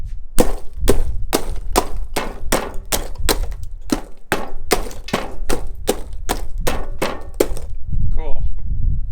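A hammer smashes glass in a series of about fourteen loud, close, evenly paced blows, each a sharp crash, followed by a quieter moment with a brief voice at the end.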